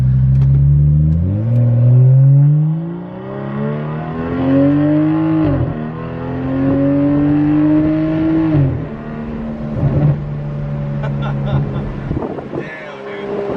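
A BMW 335i with the N54 engine makes a first-gear pull, its revs climbing in loud, rising sweeps with shifts between them and crackling exhaust burbles near the end, heard from inside the car.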